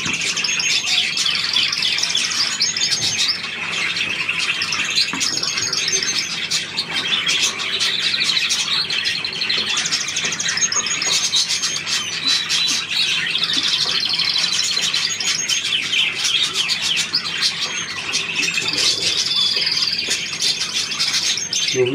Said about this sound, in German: Du bist der Yvonne-Vogel, ne?